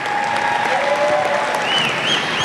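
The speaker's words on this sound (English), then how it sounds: "So give them a round of applause." An audience at a middle school eighth grade promotion ceremony claps steadily and loudly, a dense continuous round of applause with a few whistles and faint voices mixed in.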